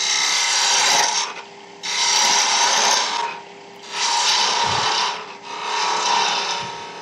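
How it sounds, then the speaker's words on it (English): A tool shear-scrapes a small wooden acorn keyring spinning on a lathe, giving four loud, rasping scraping passes of about a second each, with short quieter gaps between them and the lathe's hum underneath. "Bit of shear scraping is a very good way of shaping this kind of small object."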